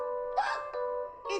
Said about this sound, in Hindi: इतना कुछ करने के बाद भी हिचकी नहीं रुक रही।